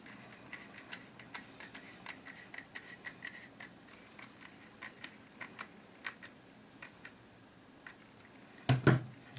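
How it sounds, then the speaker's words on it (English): A Phillips screwdriver tightens the center screw on a GSG-16 rifle stock, giving a series of small, close, irregular ticking clicks, then a louder brief clatter near the end. "And I'll have a Phillips, and I'll tighten it."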